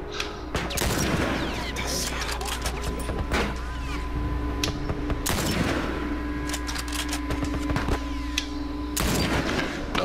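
Gunfire in The Last of Us Remastered on PS4: loud, dense bursts of shots and booming impacts repeat through the scene over a steady low rumble, with a player talking over parts of it.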